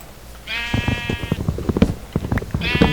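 A sheep in the video game Minecraft bleats twice, clear and close, with a string of sharp clicking steps and thuds in between.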